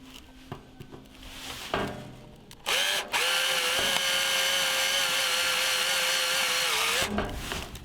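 A power drill drives a self-tapping screw while sheet metal is fastened around a homemade solar wax melter, spinning up in a sustained steady whine for about four seconds after brief handling noises, close and loud.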